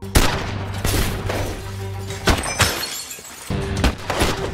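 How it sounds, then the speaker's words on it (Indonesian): Gunfight from an action film: loud, rapid bursts of gunshots with sharp cracks and crashing, shattering impacts over a rumbling background, with no talk. "Tiba-tiba datang Diablo dan anak buahnya hingga terjadilah baku tembak."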